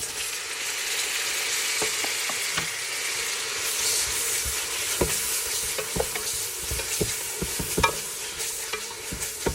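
Onions frying in oil for goat curry, a loud, steady sizzle with repeated scraping stir strokes and clinks against the pot that grow busier toward the end. No voices are heard.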